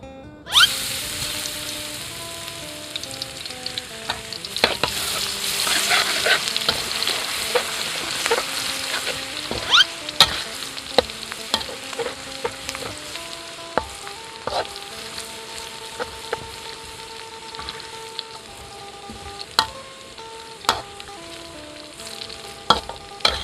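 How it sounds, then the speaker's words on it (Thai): Crushed garlic sizzles steadily in hot oil over medium heat while a utensil scrapes and clacks against the pan now and then, close and continuous. "พัดให้กระเทียมเหลืองแล้วก็ออกกลิ่นหอมก่อนเด้อครับ"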